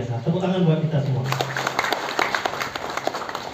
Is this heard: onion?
no